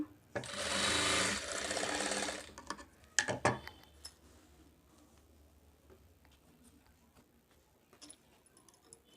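A sewing machine stitches a katori blouse, running in a loud continuous buzzing burst for about two seconds, then a few clacks and faint handling noises follow in a quiet room.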